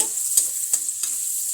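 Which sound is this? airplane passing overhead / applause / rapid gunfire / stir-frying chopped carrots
stir-frying chopped carrots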